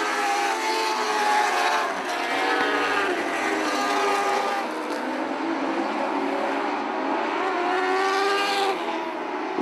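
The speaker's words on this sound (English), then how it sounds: "coming down to the white flag, it is all Nick Daywalt with one lap to go" Mini sprint race cars howl around a dirt track on the final lap, a loud continuous engine drone with shifting pitch as cars pass, no voices heard.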